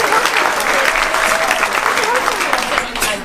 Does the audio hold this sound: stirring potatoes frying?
no